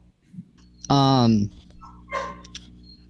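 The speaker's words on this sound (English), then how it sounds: "God damn it, my dogs again." Dogs barking in a short burst of loud yelping barks close by, followed by quieter sounds, with someone talking around them in a podcast recording.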